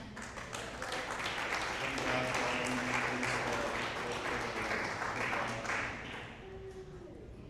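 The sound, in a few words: congregation applause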